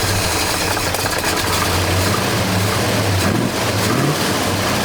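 A 1966 Ford Fairlane R-Code 427 V8 lightweight drag-racing car idles with a deep, steady, lumpy rumble, close and loud, running alone without talk.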